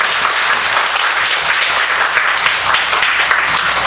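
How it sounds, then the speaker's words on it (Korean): A church congregation gives steady, dense applause to welcome a missionary to the pulpit, the clapping loud and close, filling the whole moment with no voices over it. "박수로 환영합시다."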